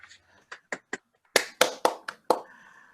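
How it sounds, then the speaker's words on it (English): A few separate hand claps from online attendees unmuted on a video call to welcome a speaker at a Rotary district symposium, sparse and uneven, roughly nine claps spread over three seconds. "join me in applauding and welcoming Dr. BowTie Todd Jenkins"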